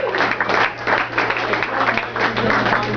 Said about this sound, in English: you guys are give yourselves a round of applause